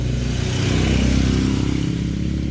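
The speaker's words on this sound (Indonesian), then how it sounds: "seperti ini contoh dari motor Vario ya, yang vakumnya sudah mulai rusak ya, sudah mulai longgar" Honda Vario motorcycle engine idling with a worn, loose carburetor vacuum, a steady close-up putter with a slightly uneven, rough pulse and no voices.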